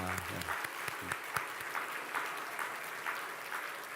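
A church congregation at a Sunday service applauds, steady and moderately loud, dense clapping with a few sharper individual claps standing out.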